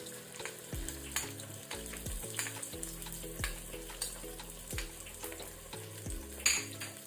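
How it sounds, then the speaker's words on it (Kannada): Green chilli, garlic and ginger fry on a low flame for rajma masala, giving a soft sizzle with frequent metallic spoon scrapes and pan clinks at close range, with no talking. "ಇದನ್ನು ಸ್ವಲ್ಪ ಲೋ ಫ್ಲೇಮ್ ಅಲ್ಲಿ ಕಲರ್ ಚೇಂಜ್ ಆಗೋ ತನಕ ನಾವು ಫ್ರೈ ಮಾಡ್ಕೊಳ್ಬೇಕು."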